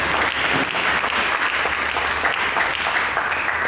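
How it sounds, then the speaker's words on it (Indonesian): A church congregation applauds during a sermon, a dense, steady wash of many hands clapping that holds at an even level throughout, loud and close with no voices on top. "Berikan tepuk tangan bagi Yesus."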